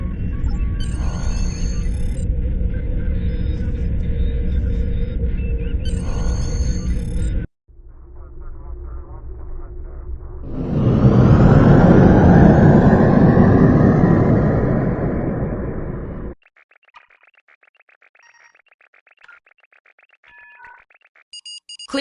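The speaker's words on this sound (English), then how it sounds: "Maximum thrusters." In Star Trek Online, a starship's thrusters go to maximum with a loud, rising engine roar that swells and fades. Electronic hums and beeping tones come before and after it.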